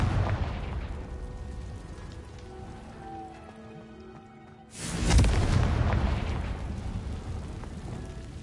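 Confringo spell in the video game Hogwarts Legacy lands midway as a sudden loud burst, a sharp blast followed by a roaring, crackling rumble over steady rain-like background noise.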